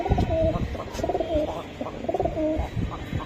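Roller pigeons coo repeatedly close by, their soft rolling calls rising and falling in a steady rhythm over faint background rustle, with no speech.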